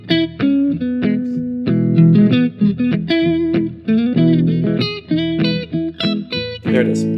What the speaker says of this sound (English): So I'm going to play that backing track. I'm just going to play these arpeggios.